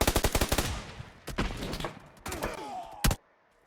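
Automatic gunfire in PUBG, a rapid burst of sharp close shots followed by a few more isolated heavy shots and short bursts, then abrupt quiet.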